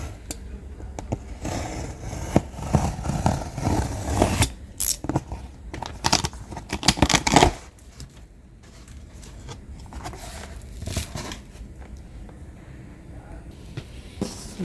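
Unboxing of a Lenovo IdeaCentre AIO 3 all-in-one desktop, with cardboard and plastic packaging being cut, torn and crinkled in bursts of close handling noise, busiest in the first half.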